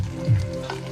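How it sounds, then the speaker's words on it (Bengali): Fish and onion frying in a pan, a steady close sizzle with a brief louder swell near the start, no voices. "পেঁয়াজটা একটু ভাজাভাজি করে নেব"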